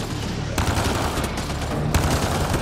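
Rapid enemy gunfire in the sci-fi video game Mass Effect Andromeda, dense bursts and volleys crackling continuously with sharper shots punching through, loud and close throughout.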